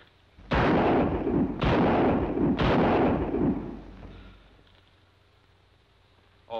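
Three loud, booming gunshots from a Western-style revolver ring out in an old Lone Ranger cartoon, evenly spaced about a second apart, each with a long echoing tail that fades into quiet.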